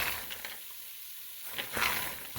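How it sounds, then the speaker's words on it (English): Peanuts roasting in about a tablespoon of vegetable oil in a pan over very low heat, giving a soft, close hiss and sizzle with faint stirring scrapes and small crackles. "just roasting it at a very low setting"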